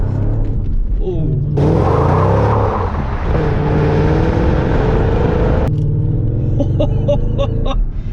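A 510 bhp Mercedes CLS55 AMG engine roars and revs hard as the car slides sideways with traction control off, loud and sustained up close, with a voice talking over it.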